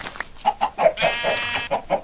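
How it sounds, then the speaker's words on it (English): Several Minecraft chickens cluck in quick, choppy bursts close by, their short calls overlapping in a busy little flurry. "So yeah, there's a lot of chickens here."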